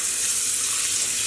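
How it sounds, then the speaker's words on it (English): Water runs onto hand-painted yarn dyed with Rit liquid dye, a steady close rushing splash that holds at constant loudness for the brief moment, with no talking. "now let's start adding some water"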